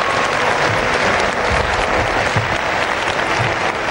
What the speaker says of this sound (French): Alors je crois que vous pouvez l'applaudir